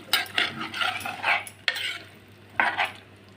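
A spoon stirs chana dal and egg curry with curry leaves in a pan, giving several close scraping, sizzling strokes in bursts, with short pauses between them.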